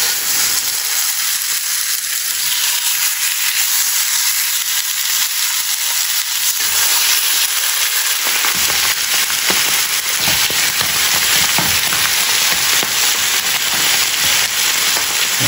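Chicken fries in a hot pan with no oil, giving a loud, steady, close sizzle full of crackle and spatter that runs the whole time.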